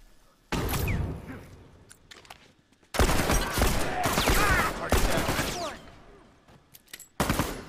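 Bursts of video game gunfire in The Last of Us multiplayer Factions, with dense rapid volleys and sharp cracks rising and falling over several seconds, loud and close, with quieter gaps between.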